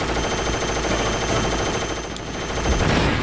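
Sustained, dense gunfire in a Metal Gear game on the PlayStation Classic, a loud unbroken clatter of shots with a shift in tone near the end.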